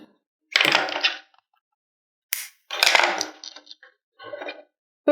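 Scissors snip through punch needle embroidery work in a few short, close, crisp bursts separated by silence.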